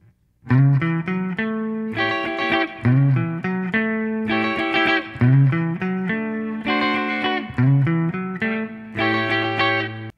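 Guitar plays a chorus part, repeated strummed chord phrases with slides in a steady rhythm, loud, bright and ringing, heard alone with no voices.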